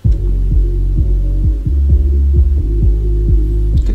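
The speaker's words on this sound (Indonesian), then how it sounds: "kalau kita dengerin bassnya doang" Isolated bass line from a remix of a song, played back in Ableton Live: deep, loud throbbing low notes pulse in a steady rhythm of repeated hits, heard alone without voices.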